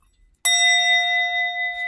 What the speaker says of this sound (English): Ring that bell.